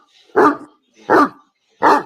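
A playful puppy barks three times in quick succession, loud and close, with short silent gaps between the sharp yaps.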